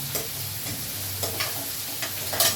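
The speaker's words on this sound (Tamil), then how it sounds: "இந்த பக்கம் வந்து இது வந்து சிக்கனுக்கு நல்லா வதங்கிட்டோம்." Chicken sautéing and being stirred in a pan in a home kitchen, a steady close sizzle with scraping stirs recurring every half second or so.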